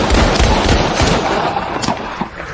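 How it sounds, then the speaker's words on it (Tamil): Rapid burst of sharp gunshot-like cracks from a shooting game stall at the Pagoda View Point in Yercaud, loud and close, firing in quick succession then tapering off. "நம்ம வந்து துப்பாக்கி சுட போகிறோம்."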